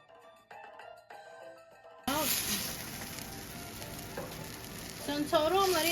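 Chile rellenos frying in a pan, first quiet with a few tonal notes, then a sudden loud, steady sizzle and crackle, with faint voice-like sounds near the end.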